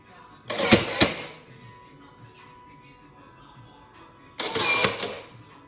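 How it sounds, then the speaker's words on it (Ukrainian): A 630 A automatic transfer switch clacks as its automatic circuit breakers switch, two loud mechanical bursts near the start and another near the end, with a quiet hum between. "має включитися перший автоматичний вимикач після того, як включиться другий"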